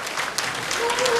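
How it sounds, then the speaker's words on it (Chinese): Brief burst of audience applause at a 42nd-anniversary fundraising banquet, dense clapping that fills the room steadily for about a second. "掌声再次给所有台上的贵宾"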